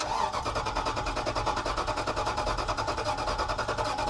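A Toyota Tundra engine left standing for five years cranks on a cold start, a steady fast rhythmic churning of the starter that stays loud and close for the whole stretch without catching.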